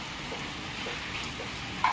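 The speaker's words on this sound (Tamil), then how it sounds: "இங்க பாருங்க எப்படி மழை பெய்யுது" Heavy rain falls steadily outside as a continuous, even wash of noise, with a brief louder patter near the end and no voices.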